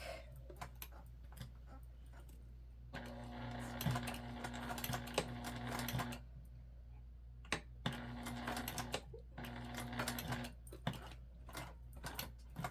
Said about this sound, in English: Do a good back stitch on this because it is a slip pocket